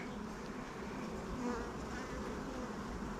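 Honey bees buzz continuously around an open hive during a beginner's brood inspection, a dense, close hum that holds steady throughout.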